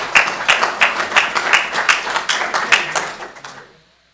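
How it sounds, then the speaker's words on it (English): Audience applause at a city employee service awards ceremony honoring twenty-year staff: steady crowd clapping with distinct rhythmic claps, sustained for a few seconds before fading out. "Let's give them a round of applause."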